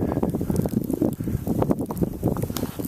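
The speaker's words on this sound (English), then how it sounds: "It's getting breezy out here too" Gusty wind blowing outdoors during a heavy Carolina snowstorm, a steady low rumbling roar of buffeting against the microphone that runs the whole time, with no talking.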